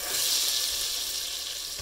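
Butter melting into caramel sauce gives a loud, steady, close sizzle with a soft stirring texture underneath.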